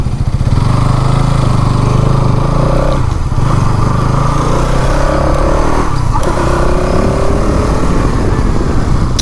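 Loud, steady engine drone from a 2026 KTM Duke 200 motorcycle while riding, with two brief dips as the rider shifts gears and the revs climb again, heard without any talk.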